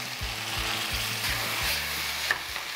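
Onion and potato stir-fried together in a single pan for Japanese curry, a steady soft sizzle with repeated low rhythmic scraping knocks of a spatula against the pan, no talking.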